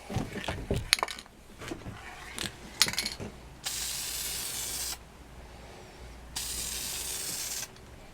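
Matte clear coat sprayed from an aerosol can onto refinished aluminum rims, with two long steady hissing bursts after a few rattles and clicks of the can.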